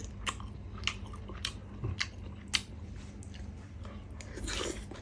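Someone eating chicken curry with pickled bamboo shoots, close-up crunchy bites and moist chewing in an irregular rhythm, with small clicks and a faint murmur over a low background hum.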